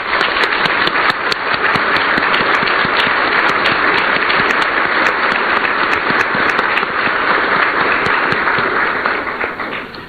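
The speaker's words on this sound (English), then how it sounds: "Please join me in giving them a round of applause." Sustained applause at an international awards event welcomes visiting diplomats, a thick, loud roar of many hands clapping continuously for ten seconds, with scattered crisp claps near the front, easing slightly at the end.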